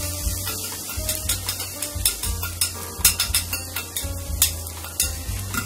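Garlic miso fried rice sizzles hard in a hot pan as a mixed sauce goes in, with brisk stirring, scraping and utensil clatter close up over a steady frying hiss.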